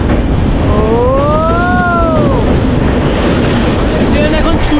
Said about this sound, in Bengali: একটা ট্রেন আসছে